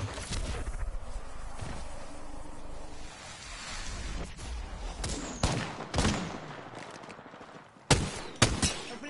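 Gunfire in the video game Apex Legends: scattered shots and short bursts, loudest in sharp cracks near the middle and end, over a steady noisy background with some footstep-like movement.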